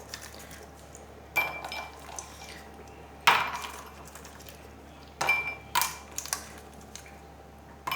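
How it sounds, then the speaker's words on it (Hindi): Ice cubes dropped into glasses while mango juice is being made, a few sharp clinks and clatters spaced a second or two apart over a faint steady background hum. "पहले गिलासों में डालेंगे बर्फ़।"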